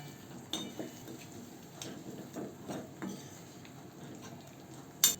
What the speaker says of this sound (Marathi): इथं मसाला आपला परतून झाला आहे, त्यामध्ये दोडका टाकून घेऊ, मिक्स करून घेऊया.